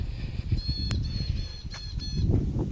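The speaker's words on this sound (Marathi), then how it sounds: "पक्षी कसे ओरडत आहेत आवाज बघा पक्ष्यांचा" Several birds honk and call over steady outdoor background noise, harsh nasal cries repeating irregularly at moderate distance.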